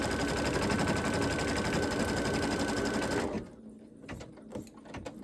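An embroidery machine stitches a mouse applique in a loud, rapid, steady buzz for about three seconds, then stops, leaving quiet handling noises.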